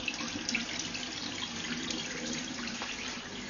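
Lukewarm water pours steadily out of a beer wort cooler while home brewing, a continuous splashing trickle close by, even and unbroken, with no speech over it.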